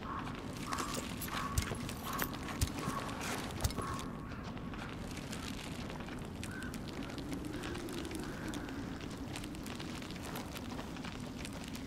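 Horse hooves clip-clopping in the video game A Plague Tale: Innocence, a steady run of irregular hoof knocks over a dense rumbling, crackling game background, with a few sharper louder strikes early on and no talk.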